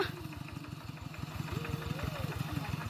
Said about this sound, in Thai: พอน้องแก้มบุ๋ม เอารถไถไต่คันหน้าพี่น้องเอ้ย